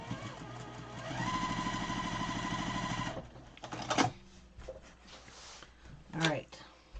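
Sewing machine running steadily for about two seconds as it stitches over a bulky quilt seam, a close, even motor hum with fast needle rhythm, then stopping, followed by handling noises and someone speaking.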